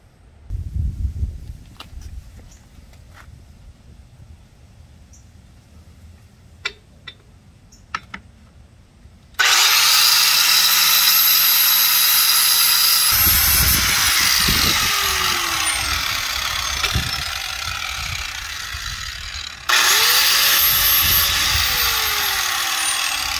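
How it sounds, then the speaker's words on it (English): Angle grinder biting into metal on a fifth-wheel camper trailer axle during a lift kit axle flip, a loud sustained whine that starts abruptly after a few seconds of quiet clicking, cuts out briefly, then roars again close up. "But I'm gonna grind all this out."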